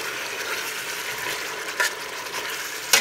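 Meat and beef broth bubble and sizzle in a pot for peanut mafé sauce, a steady close frying hiss with a couple of brief utensil knocks and no speech.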